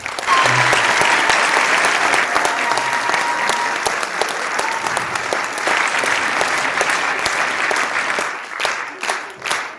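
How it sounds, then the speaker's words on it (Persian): Hearty audience applause at a large celebration of the 15th of Sha'ban, dense sustained clapping that thins toward the end into scattered claps. "خود آقای حسین رو یک تشویق جانانه بفرمایید"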